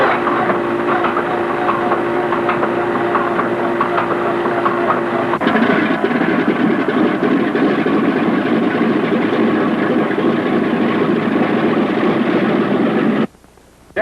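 A Boeing B-17 bomber's piston engine runs with a loud, steady, rough drone that grows denser and heavier partway through, continuous and close, then cuts off abruptly near the end.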